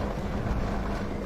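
A Challenger 2 tank engine in the video game Squad, a steady low rumbling drone with broadband noise as the vehicle drives, loud and continuous with no speech.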